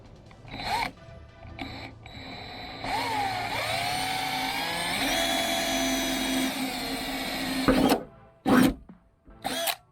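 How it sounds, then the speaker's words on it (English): A power drill whines up and bites steadily for several seconds at close range, drilling holes in the metal of a Lexus GX460 for a tire carrier, then stops; a few short bursts follow before it quiets. "I'm about to drill some holes into my Lexus"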